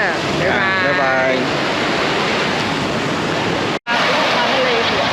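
Broadband surf washing steadily onto a beach at Destin, a continuous roar of breaking waves close by, with a brief cut near the end before the wash resumes.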